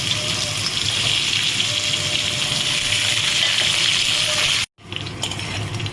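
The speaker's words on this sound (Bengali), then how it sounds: "তেল গরম হয়ে গেছে, কাঁকরোলগুলোকে আমি প্রথমে ভেজে নিচ্ছি।" Pieces of pointed gourd (kakrol) frying in hot oil, a dense steady sizzle and hiss close by, briefly cut off near the end before resuming.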